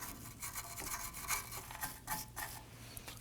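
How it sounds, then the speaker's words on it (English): A small bristle brush scrubs solvent over the brake shoe contact points on the rear parking brake of a 2015-2024 Nissan Murano. The quick back-and-forth bursts of scratchy brushing are faint and close, with no talking. "I'm going to go ahead and use a little bristle brush right on those contact points"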